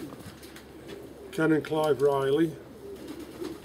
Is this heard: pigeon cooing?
yes